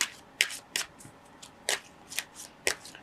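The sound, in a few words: shuffling tarot cards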